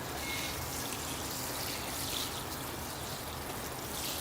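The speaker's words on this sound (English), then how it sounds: "this watering can has a very high flow rate" Water pours from a high-flow but gentle watering can onto the soil of a root-over-rock Ficus bonsai, a steady, soft, close splashing trickle running without pause.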